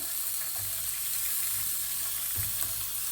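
Potatoes frying in the same oil that first fried eggplant, a steady close hissing sizzle with a few soft stirring thumps, no talking.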